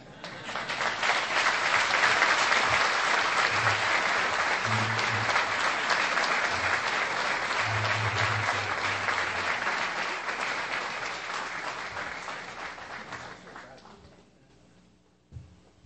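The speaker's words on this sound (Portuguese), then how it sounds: "vão me aplaudir" Sustained audience applause after a university lecture, a broad steady clatter of many hands that holds loud for about twelve seconds, then thins out and fades with a few last claps.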